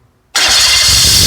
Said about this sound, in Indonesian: Nah, kita coba nyalakan engine-nya.